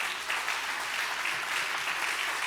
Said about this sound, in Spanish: Y dele un buen aplauso de alabanza al Señor.